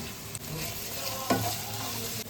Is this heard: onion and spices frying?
yes